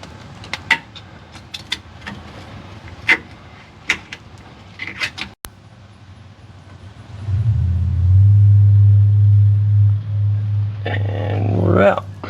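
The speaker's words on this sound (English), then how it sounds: "Next step will be to pry this old leaking seal out and replace it with a new one." An old, leaking pinion seal is pried out of a 1993 Chevrolet Blazer with sharp metallic clicks, taps and scrapes at irregular intervals, then a steady low rumble takes over for several seconds.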